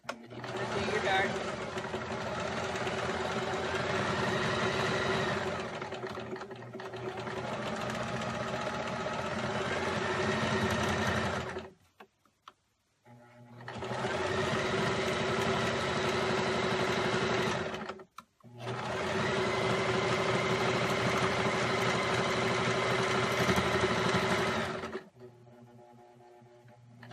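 A sewing machine stitches a bag in long, steady whirring runs with two brief pauses between them, loud and close, and stops near the end.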